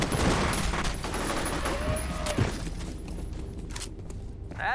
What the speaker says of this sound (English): Pistol and SMG.